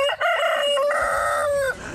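A 68-year-old street vendor selling rooster-shaped candy during Ramadan imitates a rooster's crow with his voice, one loud, close, drawn-out call lasting about two seconds.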